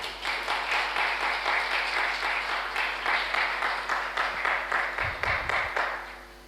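A church congregation at a Sunday worship service breaks into sustained applause for a visiting pastor, dense clapping filling the room steadily before tapering off at the end.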